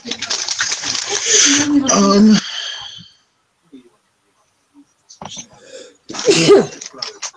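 A person at a tabletop role-playing game session lets out a loud, close sneeze with a sharp burst, then a second smaller sneeze follows after a brief quiet pause.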